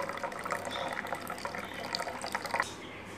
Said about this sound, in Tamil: நான் அரைச்சி வச்சுருந்த தேங்காயில் கொஞ்சமாக தண்ணியை ஆட் பண்ணி